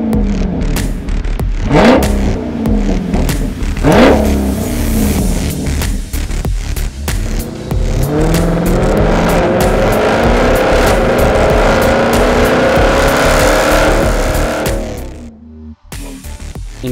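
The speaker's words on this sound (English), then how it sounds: "you want that race car kind of pop and cackle" A Dodge Charger or Chrysler 300 with a MagnaFlow straight-pipe muffler delete revs hard in two sharp bursts, then holds a loud, raspy, sustained roar before cutting off abruptly near the end.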